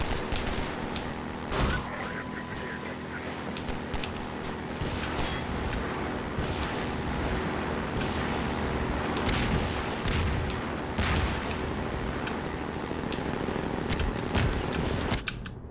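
Repeated rocket blasts and booming impacts in the video game Half-Life 2, a dense barrage of explosions and crackling bursts over steady combat noise, loud and continuous.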